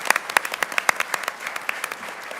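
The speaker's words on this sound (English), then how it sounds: "that applause is necessary, or not necessary, but appreciated" Scattered applause at a quarterly financial meeting, a modest number of individual claps heard distinctly with an uneven rhythm, fairly quiet and thinning toward the end.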